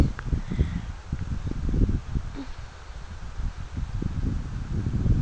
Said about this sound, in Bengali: কি সুন্দর হাওয়া, কি ঝিঝিরি বৃষ্টি পড়ছে।